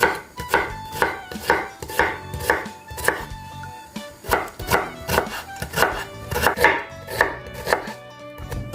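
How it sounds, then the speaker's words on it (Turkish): A knife finely chops onions on a cutting board, in quick rhythmic bursts of sharp, close taps with short pauses between runs. "soğanlarımı küçük küçük doğrayacağım"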